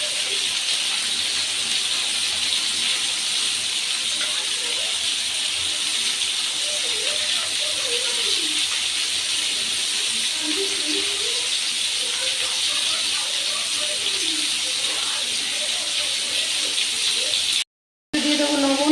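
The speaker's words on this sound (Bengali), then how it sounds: "এই সবজিগুলোকে আমি একটু হালকা ভাজবো" Pieces of bitter gourd, carrot, beans and potato lightly frying in a pan give a constant close, even hiss, while a voice talks softly over it throughout.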